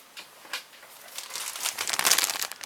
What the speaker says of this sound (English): I would have to cut this bag open.